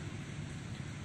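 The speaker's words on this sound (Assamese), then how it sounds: "বৰষুণ এতিয়াও পৰি আছে" A brief stretch of steady, dense rain hiss at the Raja's Seat viewpoint in Coorg, even and unbroken with no voices.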